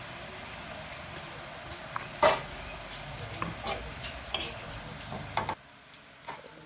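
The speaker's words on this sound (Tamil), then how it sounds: "இப்போ வந்து இதை நல்லா கலரி விடணும்" Greens (keerai) stirred in a cooking pan, with scattered utensil scrapes and clinks against the metal, one sharper clatter, and a steady low background hiss throughout before the sound drops out near the end.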